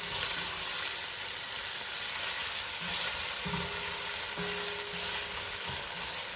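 Onions frying and caramelizing in a pan for keema curry, a steady loud sizzle with crackling throughout and a few faint clinks near the end.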